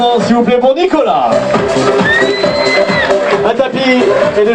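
A crowd at a barbecue tournament with card tables and croupiers cheers and applauds loudly and continuously, with whoops and shouts in a lively, noisy hall.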